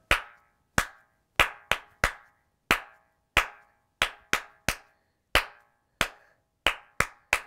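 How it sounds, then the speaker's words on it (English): Sharp, close hand claps in a children's song, a series of separate, crisp claps in an uneven rhythm with silence between them. "Five claps!"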